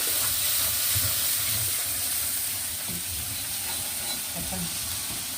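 Ginger garlic paste and green chillies fry in hot oil for salna, giving a loud, steady sizzle and hiss with faint stirring scrapes.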